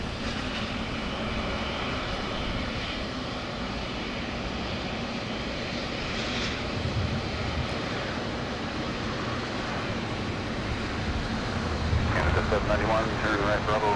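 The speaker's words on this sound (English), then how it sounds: "just over 11 hours in the air with the A380. It's Mike November. Mike November. That is minutes away from touchdown here at LAX." An Airbus A380 on approach to land at LAX gives a continuous, broad engine roar that swells slightly near the end, with a voice talking over the noise at times.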